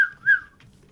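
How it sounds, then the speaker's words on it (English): A Minecraft parrot gives a short, clear whistle in two quick rising notes, fairly loud and alone against silence. "Now I don't need to hear your whistling, so maybe I can find other parrots."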